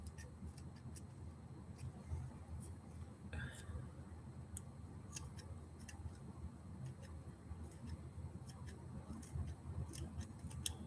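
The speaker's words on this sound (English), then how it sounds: "Let's finish her off with the scissors." Small scissors snip repeatedly, trimming the sides and bottom of a foam cicada fly. The crisp, quiet cuts come at an irregular pace over low background noise, with faint voice sounds.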